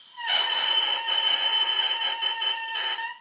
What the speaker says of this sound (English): it's crowing below a B, and it's got a lot of rattle to it also